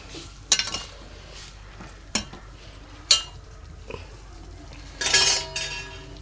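A jackfruit curry being stirred in a cooking pot after hot water is added, heard as a few sharp metal spoon clinks and scrapes against the pot, spaced irregularly, with a longer rattling burst near the end.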